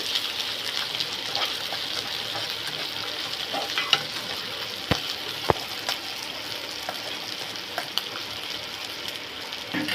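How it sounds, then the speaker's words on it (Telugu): Ginger and green chillies sizzle steadily in hot oil in a pan while yogurt bottle gourd curry is being cooked, with a constant bright frying hiss and a couple of sharp clinks midway and no talking. "ఈ అల్లం అల్లం కూడా ఆ పచ్చి వాసన పోయేంత వరకు బాగా వేగనిద్దామండి"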